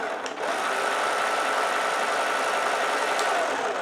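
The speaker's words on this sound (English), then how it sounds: "As you can see, all the propellers are in fact turning." Small remote-controlled electric motor spinning the propellers of a Lego ship, a steady continuous whirring drone that holds level and close throughout with no voices.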